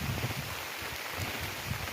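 Rain falls at an abandoned 1800s farmstead near Mountain Rest, a steady, even hiss of drops with soft patters underneath and no voices.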